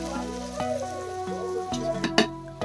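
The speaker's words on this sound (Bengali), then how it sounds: "ওইদিকে বিনসটাও ভাজা হচ্ছে" Green beans fry in a pan beside carrots and rice being cooked for homemade fried rice, giving a steady close sizzle with light crackling and a few sharper pops near the end.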